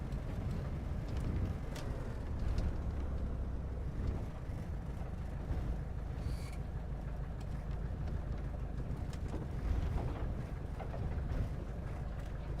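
Bush plane taxiing in the Deadstick flight simulator game, a constant low engine drone with rumbling, wind-like texture, steady and fairly loud throughout with faint clicks over it.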